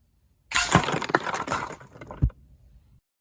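Bullet striking and smashing a chronograph set downrange at a shooting range, a sudden crack followed by clattering, breaking debris for about two seconds, then silence.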